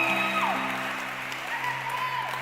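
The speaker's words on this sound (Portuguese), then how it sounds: "Vamos aplaudir o Senhor Jesus?" A church congregation at an evangelical service applauds together, a steady wash of clapping with cheering voices and sustained musical tones running underneath throughout.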